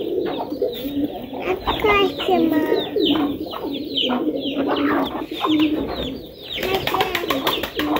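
Pigeons cooing close by, repeated throaty rolling coos overlapping in a steady stream, with a few sharper clucks and a burst of fluttering near the end.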